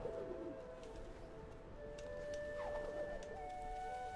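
A pigeon or dove coos repeatedly in the foreground, its low, soft calls standing out over steady background noise.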